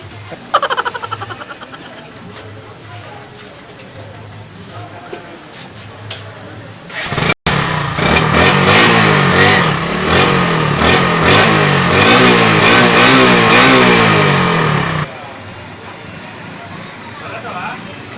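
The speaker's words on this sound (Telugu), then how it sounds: "పటపట అంటుంది, ఏమైందో చూడే బైక్." A faulty motorcycle engine with a rattling problem is started and revved hard at a village mechanic's, a loud sustained roar with knocking texture for several seconds, then drops back to a rough idle, with talk before and after.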